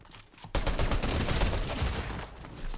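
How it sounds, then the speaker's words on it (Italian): Gunfire in the video game Fortnite erupts after a brief quiet moment, a loud, dense burst of rapid overlapping shots that continues steadily to the end. "Mi stanno già sparando tantissimo."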